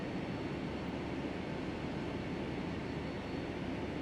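Steady, even roar of Boeing 757-300 jet engines idling while the airliner taxis toward the runway in Flight Simulator X, a constant broadband rumble with no voices.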